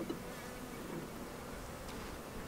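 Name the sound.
honeybees buzzing around an open long hive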